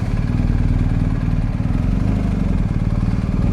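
A BMW R1250GS motorcycle engine runs steadily nearby, a continuous low throbbing rumble with faint mechanical clatter, heard alone without talk.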